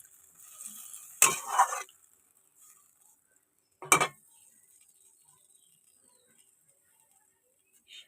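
Water goes into a cooking pot and is stirred, giving two short bursts of splashing and scraping, one longer and one brief, separated by quiet, with a faint high hiss in the background.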